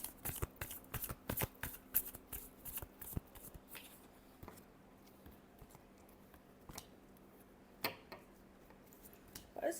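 A deck of cards is shuffled by hand up close, with quick, crisp riffling flurries at the start and sparser, softer shuffles and taps later, quiet and without talking.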